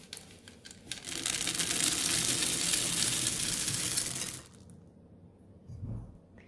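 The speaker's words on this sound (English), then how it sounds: "And we give 1 final stir" Chocolate chip cookie dough with semi-sweet chips stirred by hand in a bowl: a dense, rustling scrape that lasts about three seconds, then drops to quiet, with a soft knock near the end.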